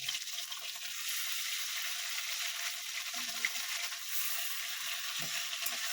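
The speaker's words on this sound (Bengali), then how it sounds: "মাছটা ভাজা হয়ে গেছে, এবার আমি মাছটাকে উল্টে দেবো।" Bata fish frying in a pan just after being flipped, a steady, soft sizzle of hot oil that runs continuously, with a couple of faint stirring scrapes mixed in.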